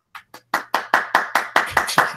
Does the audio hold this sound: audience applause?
yes